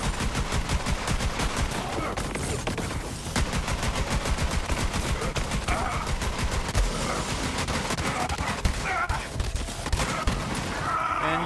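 Rapid video-game gunfire in a Borderlands-style Beast Master build, a dense continuous stream of machine-gun shots, loud and relentless throughout with faint game sounds behind.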